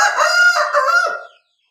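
A single crow from a six-month-old rooster, slightly thin and unpolished, rising and breaking off after about a second, loud and close with nothing else around it.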